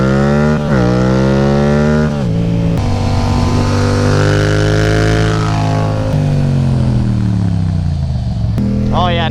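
A Yamaha FZ-07 motorcycle is being ridden on warm Michelin S21 tyres; its engine runs loud and close throughout, the pitch rising and falling smoothly as it revs and shifts gears.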